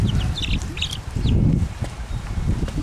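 Chickens on a farm in light rain give a few short, near clucks and squawks over a low rumble of handling and movement.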